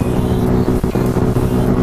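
Wind buffets and roars while riding a Mash cafe racer motorcycle on a long trip. A loud, low rumble blends with the engine for the whole two seconds, with no speech.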